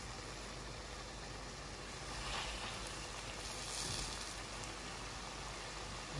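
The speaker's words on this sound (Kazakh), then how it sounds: "Майды азғантай қылып құйып алып, өйстіп қатар-қатар қылып қуыратын боламыз." Potato cutlets fry in a little oil, laid side by side in a pan, with a dense, even sizzle that holds steady and close throughout, swelling slightly at times.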